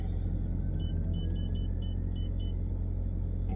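Car interior while getting ready to drive, with a steady low engine rumble throughout and a short series of electronic chimes or beeps repeating in the middle, no talking.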